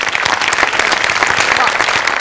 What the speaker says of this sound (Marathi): अमोलसाठी एकदा जोरदार टाळ्या व्हायला पाहिजे.